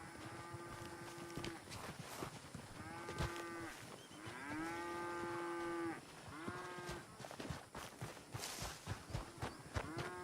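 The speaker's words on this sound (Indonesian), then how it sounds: "Mana sih nih sapi-sapi gua?" Cows in Red Dead Redemption 2 low repeatedly in long harmonic moos, several calls overlapping at moderate distance over a busy background of clatter and game ambience.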